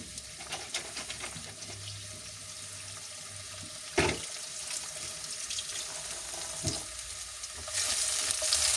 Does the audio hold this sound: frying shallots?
yes